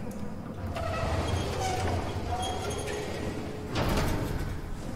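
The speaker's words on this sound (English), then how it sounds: "Oh, what were them doors?" Mechanical doors slide open in the sci-fi horror game SOMA, a low rumbling whoosh with clanking tones that swells again near the end over a steady ambient drone.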